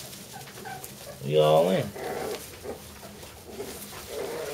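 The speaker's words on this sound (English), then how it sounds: "Yeah, little puppy play." Young puppies play together, with a loud whimpering squeal in the middle and softer yips and rustles around it, while someone talks nearby.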